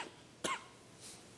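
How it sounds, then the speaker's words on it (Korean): A man coughs once, short and sharp, during a church sermon, then a fainter breathy follow-up, with a quiet background and no talk. "이 자꾸 기침이 나오는데"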